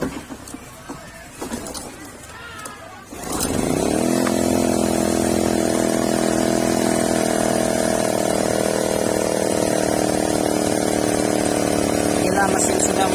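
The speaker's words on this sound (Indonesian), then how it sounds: "Bila mesin sudah menyala seperti ini" A Honda EU10i generator engine starts after some handling noises, then settles into a loud, steady running hum close by with a modified air filter, continuing without a break.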